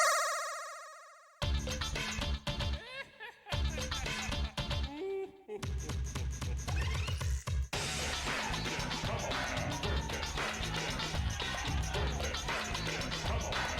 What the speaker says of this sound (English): If you were to unlock this screen on the Japanese version, the music would sound like this.